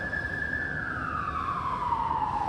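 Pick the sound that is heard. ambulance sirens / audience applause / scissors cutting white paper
ambulance sirens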